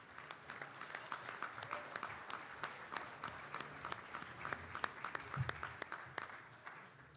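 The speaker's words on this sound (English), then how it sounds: "Please give Adam Henke a round of applause" Sustained audience applause at a Hall of Fame banquet for high school baseball coaches: many hands clapping steadily and densely for about seven seconds, with no speech over it.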